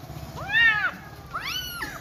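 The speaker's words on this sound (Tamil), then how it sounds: "இங்கே பாருங்க பூனைக்குட்டியை" A small kitten meows twice, close and clear, each call a short rising-then-falling cry with a pause between, over faint low background noise.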